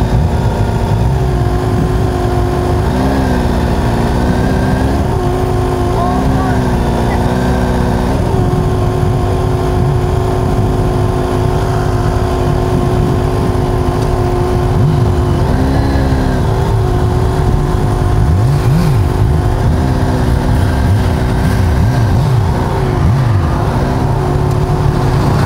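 A 2021 Kawasaki Ninja H2 SX motorcycle on a test ride keeps up a loud, continuous engine drone with shifting harmonic tones as the revs rise and fall. Wind rush runs throughout, with no talking.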